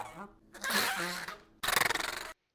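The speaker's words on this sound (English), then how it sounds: "one thing that I got a lot of use out of was this like rubber cover that my girlfriend uses" A rubber cover handled up close as raw sound-design material, giving two short scraping, squeaky rubbing bursts, the second with a rapid rhythmic stutter, separated by brief silence.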